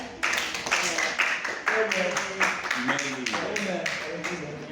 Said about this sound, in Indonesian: Tepuk tangan untuk adik Mel.